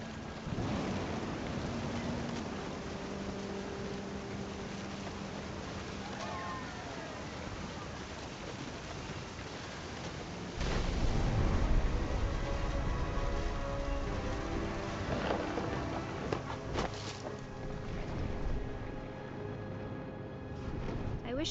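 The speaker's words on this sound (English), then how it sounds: "The thunder sounded much too close and full of angry power" Rain falls steadily and densely in the video game What Remains of Edith Finch while deep thunder rumbles build and roll through the middle of the storm, close and powerful, with no speech.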